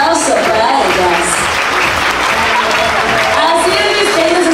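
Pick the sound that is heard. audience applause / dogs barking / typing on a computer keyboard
audience applause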